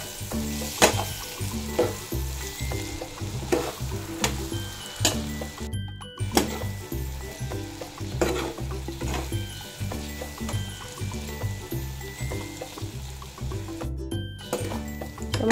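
Steady sizzling and frying with repeated stirring scrapes as mango pickle and spices are turned in a hot pan, close and continuous, with a rhythmic stir pattern throughout.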